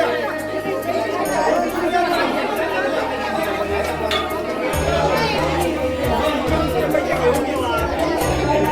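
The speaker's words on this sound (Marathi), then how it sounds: "इथे दुकानात पण भरपूर गर्दी आहे." A crowd chatters steadily inside a busy shop at a temple during Guru Purnima, with many overlapping voices close by, occasional faint clinks, and a low hum beneath.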